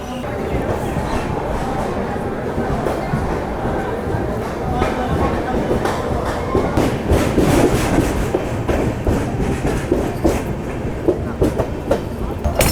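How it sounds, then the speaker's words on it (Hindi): A train running on the line between Jammu and Kalka gives a steady rumble with rhythmic clickety-clack over the rails, close and continuous, with people talking over it. "सिर्फ 2 मिनट ही रुकी हमारी ट्रेन और तुरंत ही हमें डिपार्चर मिल गया"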